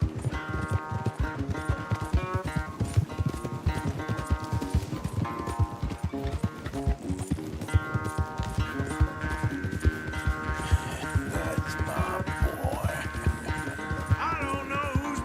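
Rapid, rhythmic hoofbeats of a galloping horse in Red Dead Redemption 2 pound steadily throughout, layered over game music with sustained tones, loud and continuous.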